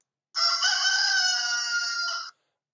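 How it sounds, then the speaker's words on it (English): A single rooster crows one long, loud cock-a-doodle-doo close by, lasting about two seconds, with silence around it. "Or maybe your chicken is a rooster."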